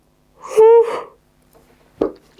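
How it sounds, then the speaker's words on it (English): A single person yawning close by, a drawn-out open-mouthed breath with a rising voiced tone, followed by a short exhale and faint breaths. "I'm gonna yawn."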